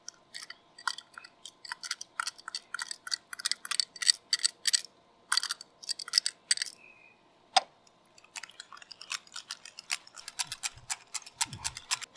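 A spoon works Hellmann's mayonnaise into a squash casserole in a bowl, making quiet, uneven clicks and soft scrapes in quick bursts with short pauses between them.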